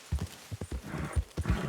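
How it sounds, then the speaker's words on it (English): Horse hooves clip-clopping in the video game Red Dead Online, a steady galloping rhythm of paired thuds, close and clear with no talking. "try to press X with the beat of your horse's hooves"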